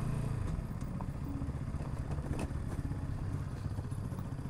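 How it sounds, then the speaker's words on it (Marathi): A naked motorcycle engine rumbles steadily while riding off-road, a continuous loud drone with clattering and scraping from the rough ground underneath. "कोण बोलतं नेकेड बाईक नाही, नेकेड बाईक ऑफ रोड नाही करू शकत"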